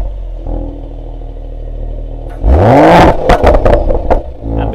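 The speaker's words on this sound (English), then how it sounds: "Because the engine uses EQ Boost to start, there's no cranking like you would usually hear on an unassisted engine when it fires up." A Mercedes-AMG GLE53 with EQ Boost mild hybrid fires up instantly with no starter cranking, a quiet hum giving way to a sudden loud catch and a brief sweeping rev before settling into a burbling idle with a few blips.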